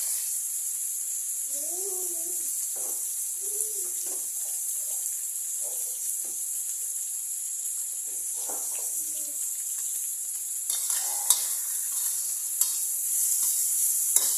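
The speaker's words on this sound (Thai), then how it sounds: "แล้วเราก็คั่วหมูสับให้เข้ากับพริกนะครับผม" Minced pork stir-fried with chili in a pan for a basil pork dish: a steady, bright sizzle runs throughout, with occasional spatula clacks and scrapes and a few faint, brief voice-like sounds.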